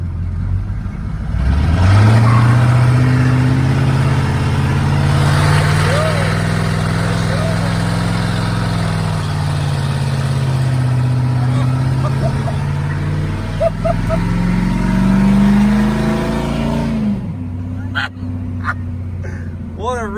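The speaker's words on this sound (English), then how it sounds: "we got to see if this thing can do a burnout" A vehicle doing a burnout roars as its engine climbs sharply and holds high revs for about fifteen seconds, loud and close, before dropping back to a lower idle; brief voices break in near the end.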